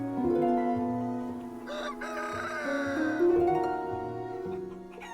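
A rooster crows a long, drawn-out call nearby, rising and wavering over several seconds with a faint cluck or two around it.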